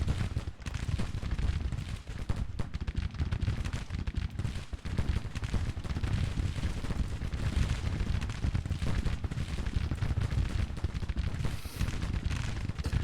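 Troops firing in Grand Tactician: The Civil War, a dense, continuous rattle of massed musket volleys and booming cannon, with rolling crackles and thuds layered throughout.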